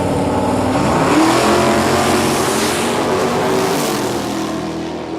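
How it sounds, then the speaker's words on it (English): A Camaro makes a drag racing run at Heathcote Park, a loud, rising engine roar that builds and sweeps upward before easing off as the car pulls away. "Looks like another nice run from the Camaro, this time 116 mile an hour mid-track."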